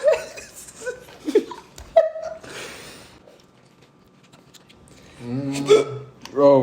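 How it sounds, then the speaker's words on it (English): A person gets sharp, sudden hiccups after eating raw jalapeños. The hiccups come in short close bursts between quiet gaps, with laughter and other voices around them. "when I eat hot stuff, I get the hiccups"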